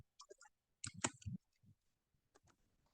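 A computer mouse clicks a few times at close range, sharp brief ticks in a short cluster followed by quieter scattered clicks in an otherwise quiet room.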